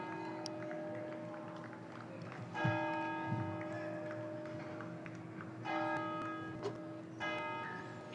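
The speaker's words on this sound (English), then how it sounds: "Clock tower chimes, it's 2 o'clock." Clock tower bells ring faintly at a distance over the ambient noise of a cricket ground, with a few struck tones spread several seconds apart, each one lingering in a long sustained hum.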